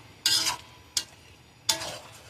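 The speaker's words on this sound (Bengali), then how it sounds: "এটা এখন আমরা ভালোভাবে মিক্স করে একটু কষিয়ে নেব" Akhni biryani mixture cooked with milk instead of water is stirred and fried in a pan: three separate scraping strokes, close and crisp, with short gaps of quiet hiss between them.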